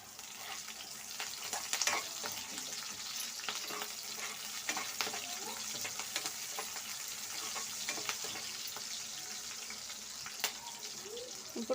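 Green chillies tossed into frying onions and curry leaves for a Dondakaya masala curry, a steady broadband sizzle with scattered scraping stirs throughout, fairly close and unbroken.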